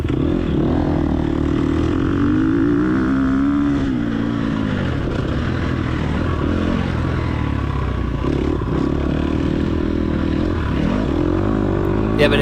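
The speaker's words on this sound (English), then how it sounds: "you can hear me let off the throttle a little bit too early in between these corners" A race car engine in the TORCS video game drones loudly throughout, its pitch rising and dipping as the throttle eases off between corners, with no break in the steady engine tone.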